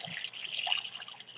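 Etch-All etching liquid poured into a container, a light close trickling and splashing with small dripping bursts, fairly quiet and alone.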